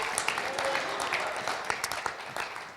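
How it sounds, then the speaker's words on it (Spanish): A church congregation claps loudly during a Sunday service, with dense, fairly even applause and a few voices calling out, easing off slightly near the end. "dé un fuerte aplauso al Rey de Reyes y Señor de Señores"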